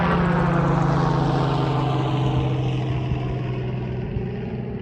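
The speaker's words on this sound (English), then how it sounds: "Shout out to the helicopter." A helicopter flying near an airport, a loud, close engine and rotor roar that holds steady and then slowly fades as it passes, with no talking.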